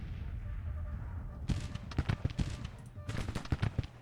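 Volleys of musket fire from troops in the Civil War strategy game Grand Tactician ring out in two ragged bursts of rapid cracks after a quiet start, with a low hum beneath.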